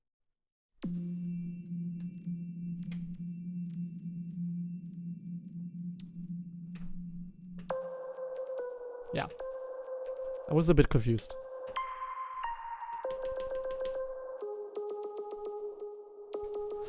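A long synthetic tone sits low and steady, then shifts to brighter chiming tones with a wash of echoing tail, while a voice speaks briefly over it.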